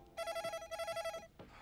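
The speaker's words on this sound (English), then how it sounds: "That'll be the phone." An indoor telephone ringing with two electronic trill bursts in quick succession, clear and close, followed by a brief knock or rustle.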